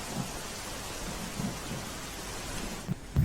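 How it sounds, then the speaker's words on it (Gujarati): Steady heavy rain in Navsari, Gujarat hisses down in a continuous wash of noise, fairly faint, with a few soft low thumps and a louder rumble at the end. "નવસારીમાં પણ ભારે વરસાદ વરસ્યો છે"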